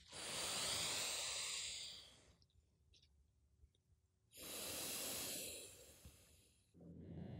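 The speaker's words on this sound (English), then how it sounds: "Press your finger against one nostril to block it off. Breathe in through your other nostril and hold your breath," Single-nostril breathing exercise: a long, close, hissing breath through one nostril, a quiet held pause, then another long breath out and the start of a third, with no talking.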